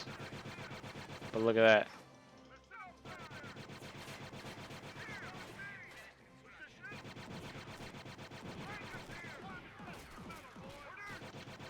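Bunker firing its guns in a Star Wars mod of the Company of Heroes strategy game, with continuous rapid gunfire throughout, a louder burst near the start, and someone talking over it.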